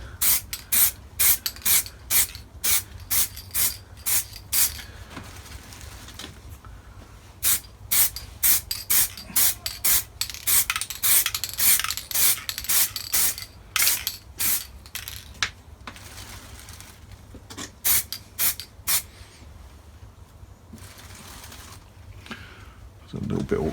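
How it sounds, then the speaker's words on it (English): A spray paint can lays a light coat on a tank in a long series of short, sharp hissing bursts, with a few pauses between runs of spraying. "So just a light first coat is all I'm after here. Trying to keep the can moving so I don't overload any particular area."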